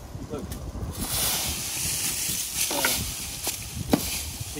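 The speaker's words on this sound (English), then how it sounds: "It's windy. I don't know if you can hear me." Heavy wind buffets the microphone in a steady low rumble at a skate spot in Richfield, Utah, with gusty roar throughout and occasional faint knocks.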